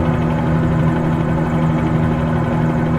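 Steady, loud helicopter engine and rotor drone in Microsoft Flight Simulator 2020 during a flight over Paros and Naxos, a constant low thrum with a strong hum and even vibration throughout, no voices.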